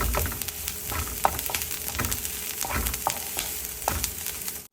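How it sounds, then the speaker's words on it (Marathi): Finely chopped garlic sautéing with onion in a pan for a tindora fry gives a steady close sizzle, broken by several sharp spatula scrapes and taps as it is stirred. "यात बारीक चिरलेला लसूण घालूया हा सुद्धा आपण परतून घेऊया"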